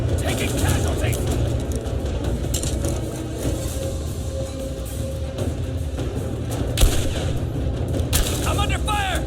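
Sustained gunfire and booming explosions fill a Rise of the Tomb Raider firefight, with steady shots and blasts layered under voices shouting through the battle.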